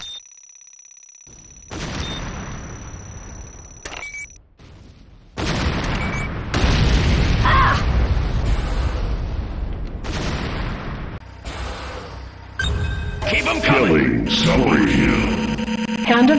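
Building destruction in the shooter Renegade as the Hand of Nod is destroyed: heavy booming explosions and gunfire in loud bursts separated by short gaps, with game announcer voices among the noise.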